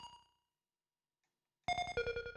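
Short electronic phone notification chime, a bright tonal melody of two or three stepped notes starting suddenly after near silence, loud and alone.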